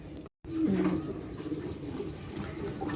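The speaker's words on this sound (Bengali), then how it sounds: "ব্রিজ স্ক্রিনে মাত্র দেখতে পাচ্ছেন একজোড়া ড্যানিশ কবুতর" A pair of Danish pigeons on a farm coo softly in a few low, rounded calls close by, over a steady background hum, with a brief dropout early on.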